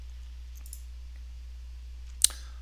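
A single sharp mouse click at about 2.2 seconds, pressing a continue button while setting up an ArcGIS Pro project. It stands alone against a quiet background hum.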